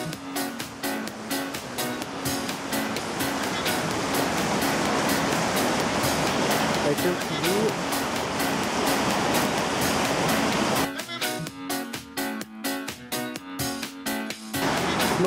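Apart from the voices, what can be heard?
Pisserotte waterfall cascading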